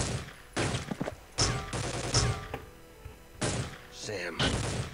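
Bursts of M4 rifle fire in the shooter game Soldier of Fortune II: Double Helix, several loud volleys separated by short pauses, with someone talking in between.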